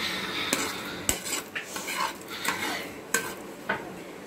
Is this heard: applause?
no